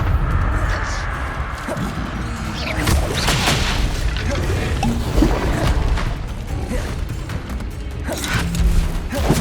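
The Confringo fire spell from Hogwarts Legacy erupts in loud booming blasts with crashing debris and rumbling, several impacts spread through a busy combat scene, with a voice speaking over it.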